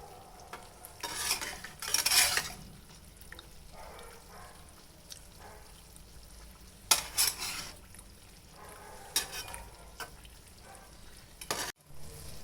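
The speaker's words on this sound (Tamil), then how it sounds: "நீங்கள் ரெண்டு சைடு மாற்றி மாற்றி இது போல் திருப்பி விட்டுக்கோங்க இது கொஞ்சம் நல்லா கிறிஸ்பியாக ஃப்ரை ஆகட்டும்" Rice-flour athirasam sweets frying in hot oil, with a soft continuous sizzle broken by a few louder scraping bursts as the sweets are turned from side to side.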